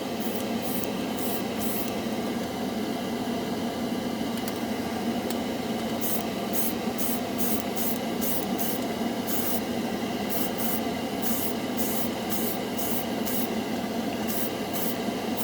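Airbrush spraying Model Master Metalizer paint in short, repeated hissing bursts with brief pauses between them, set against a steady background hum.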